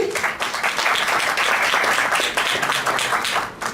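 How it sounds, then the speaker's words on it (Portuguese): Loud, close applause for a professor at a cooperatives panel event, many hands clapping in a dense, continuous burst that holds steady for several seconds before easing off. "Professor Davi, uma salva de palmas para ele, gente."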